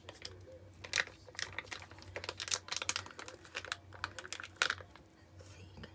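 A plastic face mask sachet is squeezed and crinkled close by, in quiet irregular crackles and rustles with a few sharper crinkles.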